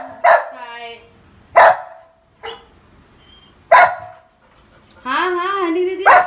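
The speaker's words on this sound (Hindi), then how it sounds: "जब तक आएगी नहीं वो भौंकती रहेगी।" A female dog barks in separate loud single barks close by, with whimpering yelps between them and a longer whining cry at the end, while a person talks at home nearby.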